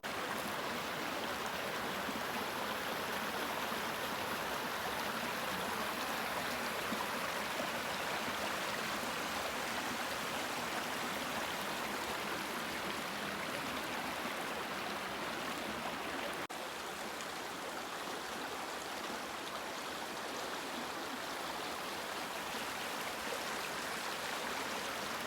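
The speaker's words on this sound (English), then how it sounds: "And some nice rushing water here." Steady rushing water from a creek in winter fills the scene, a constant broadband roar close by with no pauses.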